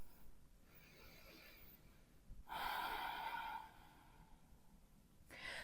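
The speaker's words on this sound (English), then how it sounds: "Breathe here." Slow deep breathing during a yoga flow, a quiet inhale then a longer, louder audible exhale close by, followed by another breath starting.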